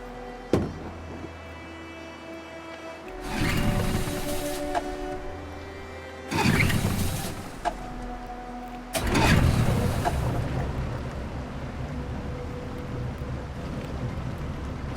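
A boat engine hums steadily in Detroit: Become Human, set in 2038, with a low continuous drone under several loud rushing swells of wind and water.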